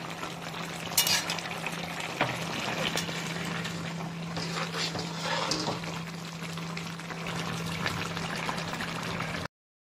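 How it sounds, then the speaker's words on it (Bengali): Moringa flowers with salt sizzle steadily in a frying pan while being stirred, a continuous moist frying hiss with soft scraping throughout, no talk. "আর এবার এটা করে দেবো ভালো করে মিক্স"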